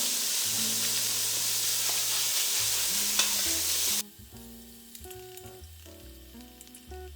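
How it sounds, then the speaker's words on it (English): Minced pork being broken up and stir-fried in a pan, a loud steady sizzle with scraping stirs for about four seconds, then dropping to a quieter crackle under low background music. "Break up the minced pork as you fry them."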